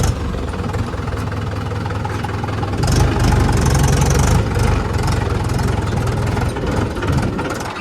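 A tractor engine with a fault idles loudly and steadily, a low knocking throb that swells briefly before settling back, with no talking.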